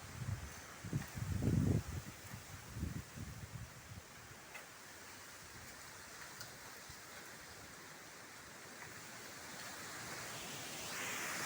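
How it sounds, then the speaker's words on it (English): Gusty wind roars through a dusty thunderstorm in Singhwara, with strong low rumbling bursts in the first few seconds that settle into a steady broadband rush of air. "See, this is a gusting called jhoka."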